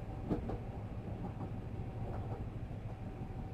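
A train rolls steadily through a video game with no passengers aboard. It makes a low, continuous rumble with faint rhythmic clicks and a thin tonal whine, heard alone at a moderate level.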